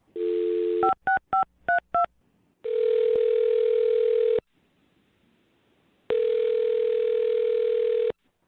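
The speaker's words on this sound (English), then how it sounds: "I'm dialing her phone number right now." A telephone call being placed: a brief steady tone, then five quick electronic keypad dialing beeps, followed by two long, loud ringing tones separated by a silent pause.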